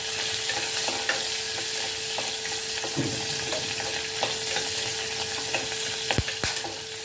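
Chopped onion, garlic and green chili sauté in a pan of oil for a South Indian brinjal gravy, a steady loud sizzle broken by occasional scrapes and taps of a spoon stirring.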